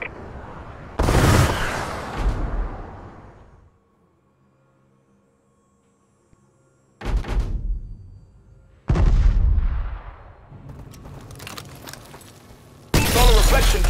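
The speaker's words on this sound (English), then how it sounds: "Friendly missile strikes incoming." Missile strike explosions in Call of Duty Advanced Warfare, Hardpoint mode on the Solar map: loud booming blasts in bursts, separated by a near-silent gap and followed by rumbling decay and crackling debris.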